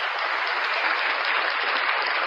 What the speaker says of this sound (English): I'm giving a round of applause out there for everybody who subscribed to me